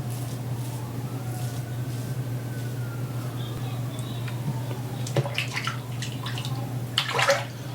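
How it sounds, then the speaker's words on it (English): Water running at a bathroom sink as a face is rinsed after shaving, a low steady faucet flow with intermittent splashes and wet slaps growing busier toward the end. "I'm just gonna rinse my face"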